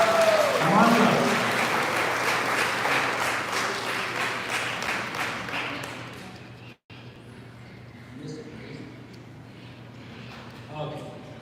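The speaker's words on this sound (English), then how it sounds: "So please give a round of applause for God." Crowd applause at a National Parents' Day gathering, dense clapping for roughly six seconds that fades, followed by quieter room sound with some talk.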